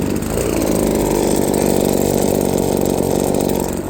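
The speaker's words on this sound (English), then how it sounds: "I'm just going to pause it while we get this fired up. Okay, it's the Husqvarna 525BX." Husqvarna 525BX petrol leaf blower engine running at full throttle, a loud, steady two-stroke buzz up close with no voices.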